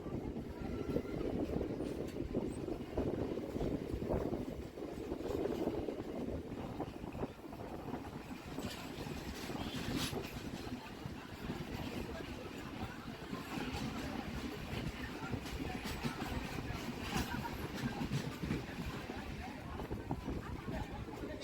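A crowded Howrah to Digha local train rattles along the line with a continuous, loud rumble and clatter of the coaches, while voices murmur underneath throughout.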